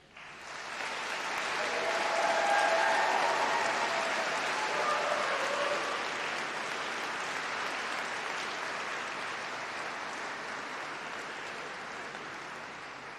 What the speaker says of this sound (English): Graduands, please give a round of applause and cheers to say thank you to all of those